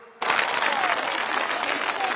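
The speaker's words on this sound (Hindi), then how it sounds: "एक बार जोरदार तालियों से इन लखपति दीदियों का सम्मान कीजिए।" A large crowd at a public rally in Assam bursts into loud, sustained applause after a brief quiet moment, the dense clapping continuing steadily to the end.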